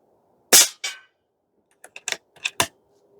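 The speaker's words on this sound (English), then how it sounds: "Let's shoot another 5 at this guy over here." An Airmaks Krait Pro L .30 calibre air rifle fires one sharp, loud crack close by, followed after a pause by a handful of lighter mechanical clicks and ticks.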